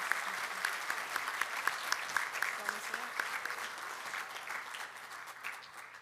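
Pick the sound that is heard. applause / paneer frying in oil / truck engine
applause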